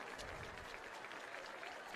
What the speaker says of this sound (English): It's a nice hand from the appreciative crowd here